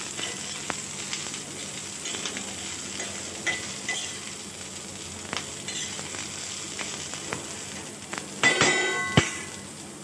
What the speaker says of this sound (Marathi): आणि कांदा आहे ना थोडासा गोल्डन होईपर्यंत परतू द्यायचा.